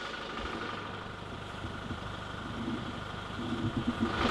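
A Jeep engine running as it drives slowly along a freshly cleared off-road track in Ireland, a low steady rumble with faint knocks and rattles, growing slightly louder toward the end.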